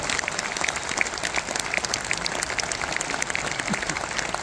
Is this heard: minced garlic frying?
no